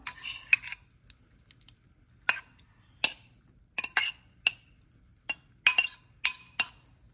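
A spoon clinks against a lunch box while macaroni and cheese is scooped in. About a dozen sharp, close metallic taps come in scattered clusters over a quiet background, with no talking.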